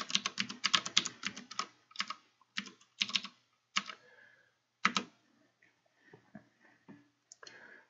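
Typing on a computer keyboard to enter a Raspberry Pi's IP address into a web browser: bursts of close, crisp key clicks, fast at first, then slower scattered taps with short pauses, and no talking.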